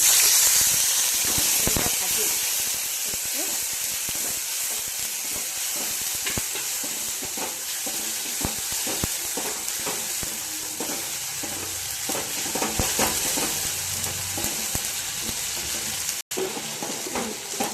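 Ginger paste and tomato paste sizzle in hot oil with cardamom and cinnamon for a matar aloo paneer curry, a loud continuous frying hiss with scattered pops and stirring scrapes throughout.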